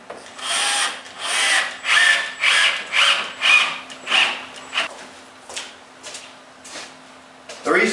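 A power drill whirs in a series of short bursts into the side of an assembled cabinet with a short bit, fairly close, with pauses between each run and a faint steady hum underneath.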